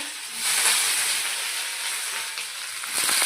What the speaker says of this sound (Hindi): तो यहाँ पे इसने छौंका लगा दिया।